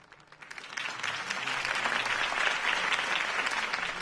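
Crowd applause in a Batman Telltale game scene follows a campaign speech, rising over the first second into a dense, steady wash of clapping that holds at full strength throughout.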